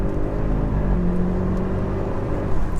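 A 680 bhp Audi S8 under hard acceleration, its engine a steady, loud, close rumble with rising tone heard from inside the car, continuous throughout with no talk over it.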